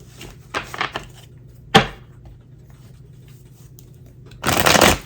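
Several quick bursts of a tarot deck being riffled and shuffled by hand, close up, spaced out with quiet pauses and ending in a longer, louder shuffle.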